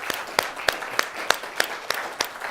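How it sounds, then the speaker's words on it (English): An audience at a class presentation claps in a steady, even rhythm, sharp claps repeating about three times a second, fairly faint and close. "Give a round of applause, guys."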